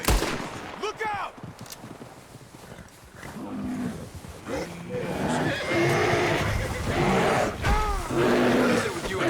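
Horse neighs and whinnies in Red Dead Redemption 2, several rising-falling calls over rumbling game action, shouting and gunfire-like bursts, with voices talking throughout.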